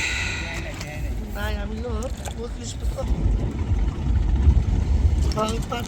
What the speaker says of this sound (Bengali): ট্রলার মাছ ধরে আসতেছে